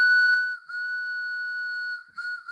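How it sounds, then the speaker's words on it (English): A train whistle, blown by hand, gives a long steady two-tone blast, briefly dips, then sounds again, loud and close with no talking. "So Eric put on his engineer hat and got his train whistle"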